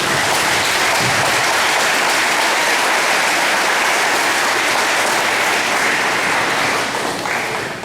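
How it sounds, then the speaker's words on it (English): A large crowd at a high school graduation ceremony breaks into loud, sustained applause, a dense wash of clapping that holds steady for several seconds before easing slightly at the end. "all of you deserve a round of applause"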